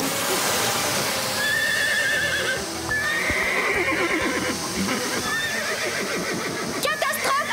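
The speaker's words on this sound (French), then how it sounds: "Marie et Rosa, aidez-moi à calmer les chevaux!" Agitated cartoon horses neigh and whinny loudly and repeatedly, with hooves clattering amid a chaotic, noisy scene.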